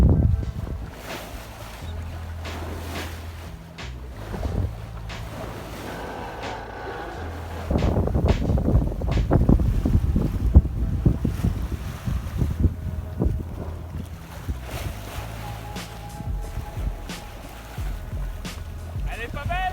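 A sailboat moves through 12 to 15 knot winds on open water, with steady wind rush and buffeting on the microphone that grows stronger halfway through, hull and water sounds, and occasional voices.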